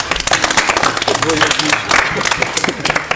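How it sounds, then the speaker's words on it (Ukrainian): A young audience at a teen TV show magic act claps and applauds, dense and steady for a few seconds, with voices mixed into the clapping. "Аплодисменти."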